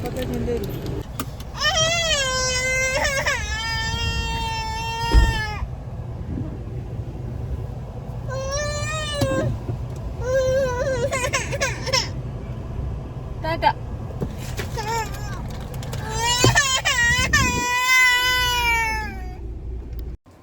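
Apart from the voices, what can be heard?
baby girl crying in the car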